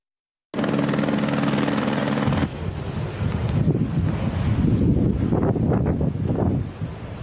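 A helicopter flies over the snowy Kaçkar Mountains carrying skiers, its steady rotor drone starting abruptly and loud, then giving way to gusting wind rumble for the rest.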